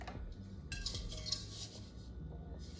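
Solid metal frying pans and saute pans clink and clank as they are handled and set down, a few scattered knocks over a steady background hum.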